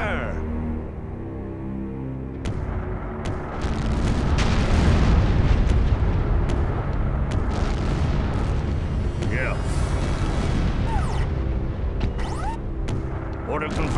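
Heavy artillery fire and explosions from a World War III: Black Gold battle roll on continuously as a loud, dense rumble of booms, with sharper bursts layered over the din and a voice briefly calling out.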